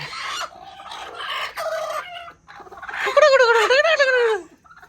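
Hens clucking and cackling close by in a coop, with a rising crow-like call near the end; the birds are broody, sitting on eggs, and the calls come in repeated bursts.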